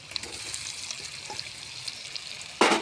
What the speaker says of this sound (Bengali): এখন চিকেন ছেড়ে দেব আমার নাইনটি পারসেন্ট রান্না কমপ্লিট চিকেন ছেড়ে দিলাম